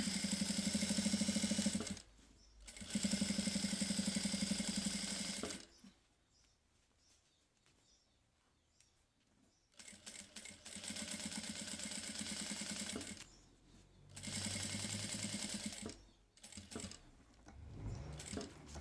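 A sewing machine stitches around a Christmas door panel in gold thread, running in bursts of quick, rattling stitching separated by near-silent pauses; close and fairly quiet, with no talking.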